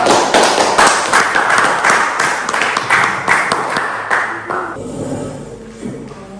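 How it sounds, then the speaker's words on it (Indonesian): Group clapping in a classroom for a biology student group about to present, dense steady applause for about five seconds, then tapering into a few scattered claps with faint murmurs in the room. "Aplaus dulu."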